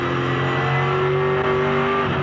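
A V8 Supercar race car at Phillip Island in the 2007 championship pulls hard with a steady, loud onboard engine drone, the pitch shifting briefly near the middle as it short shifts into third early, with no talk.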